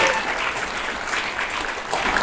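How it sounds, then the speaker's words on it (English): Sustained applause from an audience at a mental health foundation event, a steady dense wash of clapping at moderate loudness with a faint voice underneath. "Can we give her a round of applause,"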